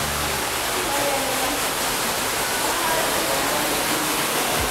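A waterfall at a butterfly sanctuary gives a loud, steady rushing roar heard close up from its base, with the constant hiss of falling water filling the scene.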